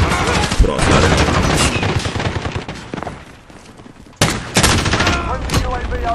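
An MG34 light machine gun in a video game fires loud, close bursts of rapid automatic gunfire that stop briefly in a short lull and then start again, with no talking heard.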